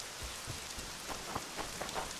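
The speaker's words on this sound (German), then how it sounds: "ich glaube, es regnet" Rain falling in the video game The Witcher 2, a steady soft hiss of drops pattering on surfaces, faint and continuous with scattered small ticks.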